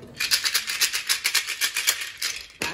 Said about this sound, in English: I think it was Legos.